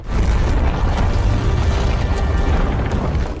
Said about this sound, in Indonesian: menembakkan peluru hingga terjadi ledakan besar